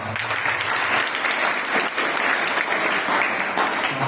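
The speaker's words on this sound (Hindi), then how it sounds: "एक बार आप सभी अपने लिए जोरदार ताली बजाएं" Students applaud themselves in a government higher secondary school hall after presenting newspaper-writing work, a steady, dense burst of many hands clapping throughout without a break.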